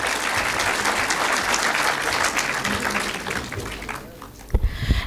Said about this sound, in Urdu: تو اپنے لیے بہت زیادہ تالیاں بجا دیجیے.